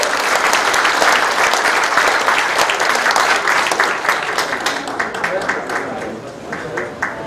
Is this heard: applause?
yes